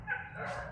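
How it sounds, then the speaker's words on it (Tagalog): Dogs bark faintly from some distance with a short yipping, whimpering call, quiet and brief against a low background. "Maliwanag din yung mga aso, right? Marinig nyo?"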